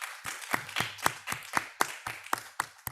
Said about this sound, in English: please join me in a big applause to all the speakers